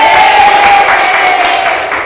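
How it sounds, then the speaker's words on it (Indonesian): A class of students in a micro-teaching lesson claps for a correct answer, a loud, close burst of scattered applause lasting about two seconds, with a faint steady tone running underneath. "Beri tepuk tangan dong"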